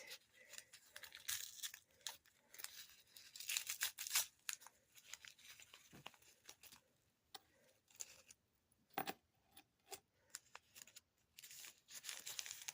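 Packaging paper being torn and cut away from a delicate handmade piece during an unboxing, giving faint, irregular bursts of ripping, crinkling and snipping with short pauses between, no voices.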